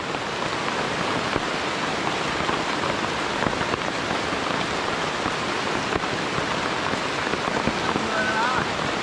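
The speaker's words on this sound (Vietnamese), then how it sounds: "Mưa rất là to luôn." Heavy rain pours steadily onto a forest, a dense, continuous hiss of drops hitting leaves and ground close by, loud and unbroken throughout.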